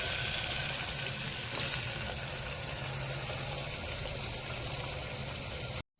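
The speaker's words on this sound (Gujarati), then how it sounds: "સરસ મજાના રીંગણા બટેકા વઘાર્યા છે." Eggplant and potatoes hit hot oil for a tempering in a village kitchen, a loud dense continuous sizzle and crackle that holds steady for several seconds before cutting off abruptly.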